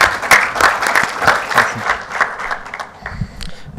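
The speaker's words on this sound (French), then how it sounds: "Sous vos applaudissements, s'il vous plaît." Audience applause at a development-model conference, a dense burst of many hands clapping that carries on steadily before thinning out toward the end, with a few scattered claps and faint voices near the close.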